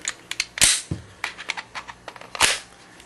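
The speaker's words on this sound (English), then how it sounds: "Dry fire in a safe direction, and it's safe." An empty Glock 19 9mm handgun being dry-fired and handled up close, giving a run of sharp, dry mechanical clicks and snaps, a few louder clacks among lighter ticks, with no voices.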